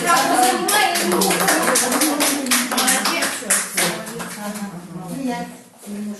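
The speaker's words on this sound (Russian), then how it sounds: "Понравилось, аплодисменты" An audience at a presentation in Yakutsk claps, a close, loud patter of hands with a voice or two speaking through it, thinning out toward the end.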